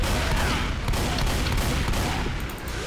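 Rapid gunfire during a Tank fight in Left 4 Dead 2 rattles on continuously at close range, a dense string of loud shots with battle noise behind it.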